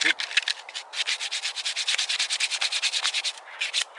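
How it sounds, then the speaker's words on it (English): Steady rhythmic rasping of sandpaper rubbing back and forth on a carved wooden spoon, close up, in quick repeated strokes. "I think they spend more time sanding it down actually."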